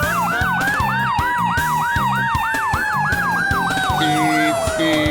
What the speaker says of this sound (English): With bright flashing lights and loud sirens, it's exciting to watch a fire truck whiz past.